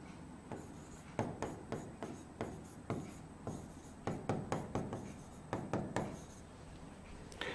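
Chalk or a marker writes on a board during a chemistry lesson, with quick rhythmic taps and short scratchy strokes in bursts, fairly close and clear with no talking over it.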